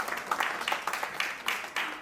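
A church congregation claps after a wedding vow pronouncement, a short run of uneven, moderately loud hand claps in loose bursts with no talking.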